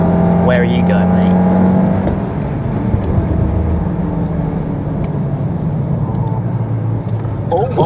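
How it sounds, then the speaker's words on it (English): Engine drone from a Stage 3 manual VW Golf R on the Silverstone track, a steady loud in-cabin roar with a shifting pitch, people talking over it. "have some fun out on Silverstone in my Stage 3 manual Golf R"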